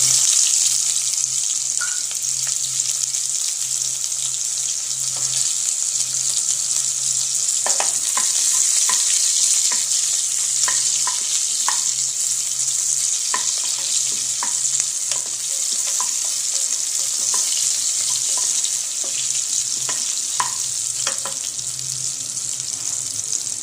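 Onions frying in hot oil in a pot for biryani: a loud, constant bright sizzle close by, with scattered clicks and knocks from stirring throughout and a faint low hum beneath, no one speaking.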